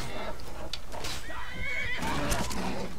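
A horse in the video game Skyrim neighs and whinnies with clear rising and falling calls, along with soft hoof clops and some background game noise.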